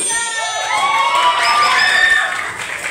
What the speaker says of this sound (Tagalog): Isang palakpak or malakas palakpak for Matthew!